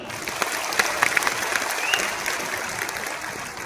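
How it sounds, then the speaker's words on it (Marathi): An audience at a political speech breaks into sustained applause, with dense clapping that stays steady and moderately loud throughout before easing slightly at the end. "त्यांच्यासाठी जोरदार टाळ्या वाजवा"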